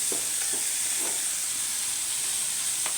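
Okra and shrimp sautéing in a home-kitchen pan give a steady, close sizzle and hiss throughout, broken by a few light stirring scrapes.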